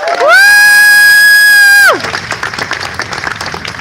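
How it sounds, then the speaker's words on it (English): At a Framingham Pride Month kickoff in 2023, a loud, sustained horn-like tone blares for nearly two seconds before a crowd breaks into cheering, clapping and shouts. "So please give yourselves a round of applause"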